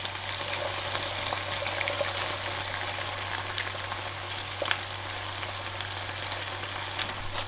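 Spice Tailor butter chicken sauce bubbling with meat in a pan, a constant close frying hiss with soft popping and a low background hum, no voices.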